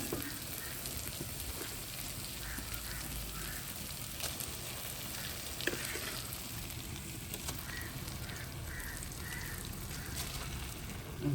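Rice frying with onion and tomato in a pan for Tamil-style egg rice, a soft continuous sizzle and crackle heard close but quiet, with occasional light stirring clicks.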